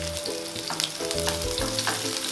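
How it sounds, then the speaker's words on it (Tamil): Chopped onions and curry leaves sauté in a pan for okra fry, giving a loud, close sizzle broken by rhythmic scrapes and stirring strokes every half second or so. "வெங்காயத்தை நல்லா வதக்கி விட்டுக்கோங்க"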